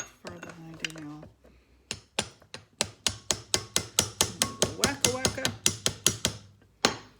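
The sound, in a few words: chiseling pot metal on Madison Kipp oiler eccentric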